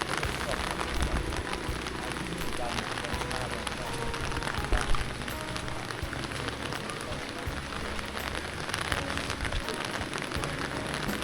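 Heavy rainy-season downpour in a Pakoh tribal village in Thailand, a dense, steady hiss of rain on surfaces lasting throughout, with faint voices now and then beneath it.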